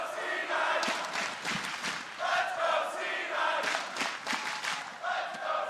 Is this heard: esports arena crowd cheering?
yes